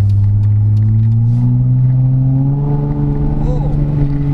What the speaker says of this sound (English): Once you start flooring it though, yeah, you will hear the exhaust.